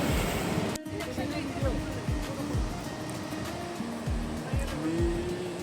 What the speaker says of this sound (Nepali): भोटे खुसी खोला पुल तरेर अगाडि आयो।